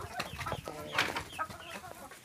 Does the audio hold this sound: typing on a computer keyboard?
no